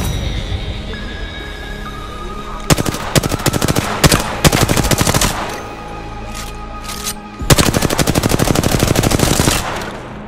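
Automatic gunfire in the video game Apex Legends, two long loud bursts of rapid rattling shots separated by a lull, with scattered single cracks in between and no talking.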